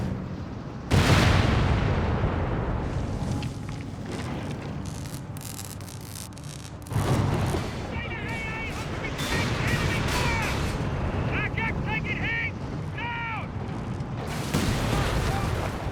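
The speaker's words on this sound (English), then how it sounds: "Marder crews heroically engaged the anti-tank gun." Anti-tank gun and Marder tank gunfire in Company of Heroes 3, with loud booming cannon shots and explosions over continuous battlefield rumble and mechanical clatter.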